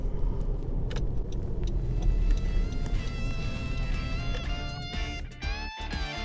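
A 2019 Honda CR-V driving over light off-road terrain, its engine and tyres producing a steady low rumble with scattered knocks and rattles from the cabin, close and continuous throughout.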